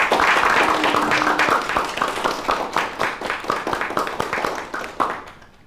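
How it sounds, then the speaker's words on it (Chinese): A group claps together for a few seconds, close and dense with many hands. The applause starts loud and steady, then thins out and fades away. "大家鼓掌。"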